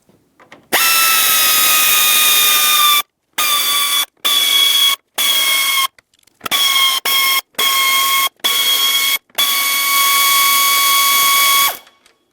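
A power tool whines under the hood of a Ford Flex, backing out 5.5mm screws along the front, loud close bursts of high-pitched spinning separated by short pauses, with no talking.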